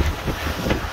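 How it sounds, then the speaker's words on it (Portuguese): Strong wind buffets the microphone in a steady, loud roar with gusty swells and low rumbling throughout, on a bridge at Lagoa da Conceição, Florianópolis, amid on-and-off rain. "Tá ventando muito."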